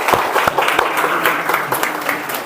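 A small audience claps in a brief burst, a few distinct hand claps emerging from a soft crowd clatter, close and fairly loud.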